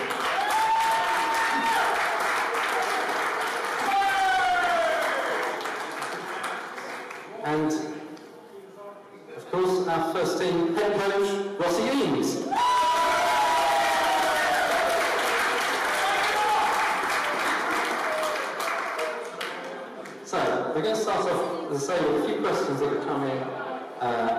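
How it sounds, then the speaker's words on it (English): An audience at a football club's fan Q&A event applauds in bursts of clapping, with tonal crowd sounds and pauses breaking up the applause. "So, a round of applause."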